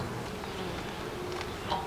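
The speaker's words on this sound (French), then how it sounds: "Les abeilles sont beaucoup plus présentes." Honeybees humming around a busy hive, a continuous low, close drone with faint brief buzzing passes over it, no talking.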